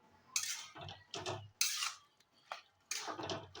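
Bottle gourd and moong dal are stirred in a pan with a spoon, giving repeated close scraping and clattering strokes in irregular bursts, quiet and without talk.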